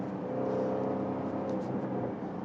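Engine of a 575 HP Jaguar F-Type R Roadster revving, a loud, steady, dense roar with a rising whir that stays strong and unbroken across the whole short stretch.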